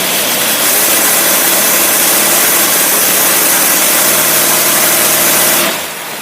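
A Dodge engine fitted with a replacement Thermoquad-style AFB carburetor roars steadily and loudly on a dynamometer, holding a constant high-rpm drone for several seconds before easing off near the end.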